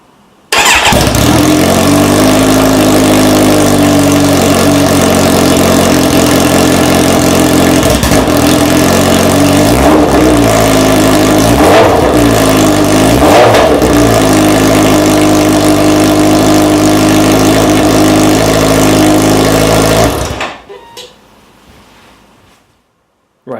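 A Kawasaki Z900RS motorcycle fitted with an Akrapovic exhaust starts up and idles loudly and steadily, with a few throttle blips rising and falling midway, then shuts off and falls quiet near the end.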